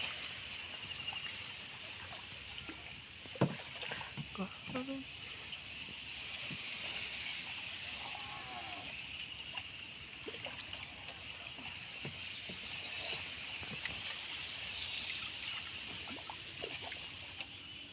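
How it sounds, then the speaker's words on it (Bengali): Small boat being rowed in the evening near Nandichar village, with soft intermittent paddle and water splashes over a steady background hiss, some sharper knocks early on, no talking. "সন্ধ্যার বেলা নৌকা চালাচ্ছে আমার বাগিনা সিয়াম।"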